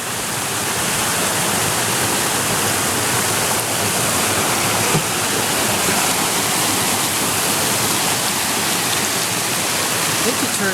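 A river rushes steadily just below a waterfall between two lakes along a wilderness hiking trail, a loud, continuous broadband roar of flowing water, close by and unbroken, with no voices over it.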